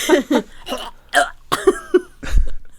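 A voice imitating the game character Warwick coughing up a hairball: a series of rough, retching coughs and gags building to a final heave.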